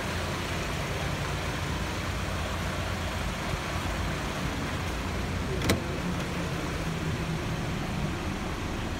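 A Toyota Land Cruiser 80 VXR turbo diesel engine with an automatic gearbox runs at a steady idle, giving a continuous, even, fairly close rumble with one brief sharp click about midway.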